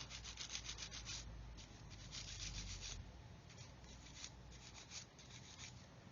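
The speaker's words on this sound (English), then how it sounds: "And then sand off the nibs." Nibs being sanded off a plastic part from an Airfix 1/24 Hellcat F6F-5 model kit: close, steady back-and-forth rubbing strokes of sandpaper in a quick rhythm, quiet and alone.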